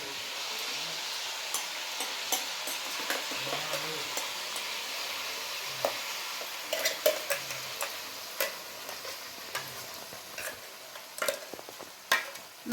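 Ground masala stirred into chicken frying in a pan, with soft sizzling under irregular scraping and clinking strokes of a spoon, close and moderately quiet.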